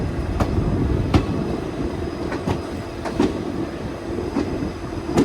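A passenger train runs steadily along the rails on the Londa to Kulem line through the monsoon ghats near Dudhsagar, with continuous rumble and repeated clicks of wheels over rail joints, close and loud, no voices.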